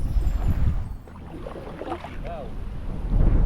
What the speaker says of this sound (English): That wind has really got up, folks